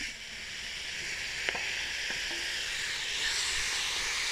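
Tomatoes go into a pan of frying onion and ginger, giving a steady close sizzle and hiss with a few faint utensil taps, no talk.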